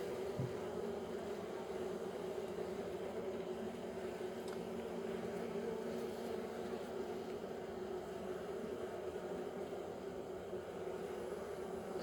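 Honey bees buzz during a beehive inspection, a soft, continuous hum with a steady drone that never lets up, fairly quiet and without speech over it.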